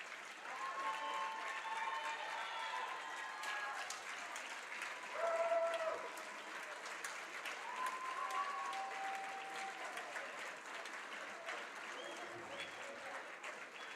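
A basketball crowd at a Mt. Carmel Lady Aces game against Newton applauds steadily and at some distance for a player's 1,000th career point, with scattered cheers and voices in the mix.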